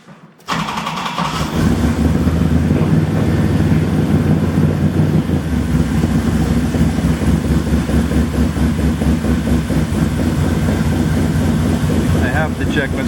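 An LS engine fitted in a 1938 Pontiac starts up and settles into a loud, steady idle, a rough low rumble that holds unchanged for several seconds, close up.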